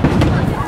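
Fireworks bursting at a summer festival in Japan, a short dense rumble of explosions mixed with crowd noise and people talking nearby.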